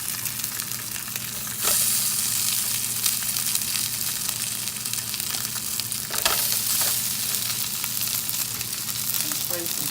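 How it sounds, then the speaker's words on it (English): Burger patties sizzle loudly in a frying pan, a steady close crackle and hiss that swells as the patties go back in, with occasional sharper spits and pops and no talk. "now I'm going to place these back in the frying pan"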